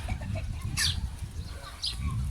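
Chickens cluck softly in short bursts at a Bursa zoo, over a steady low rumble of outdoor background noise.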